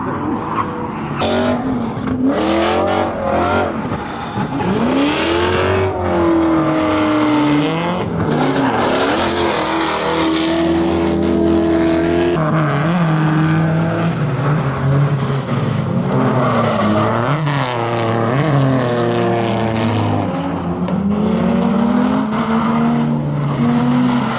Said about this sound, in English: Those are the worst sounding cars.